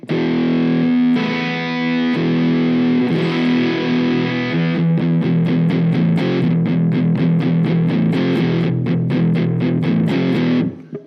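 Distorted electric guitar through a crunch tone on the Nembrini Cali Axis all-tube amp app for iOS, with LD drive and reverb on, playing sustained chords then a rapid run of rhythmic strummed stabs, loud and alone.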